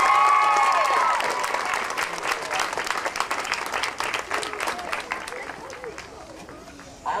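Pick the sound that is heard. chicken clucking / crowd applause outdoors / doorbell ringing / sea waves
crowd applause outdoors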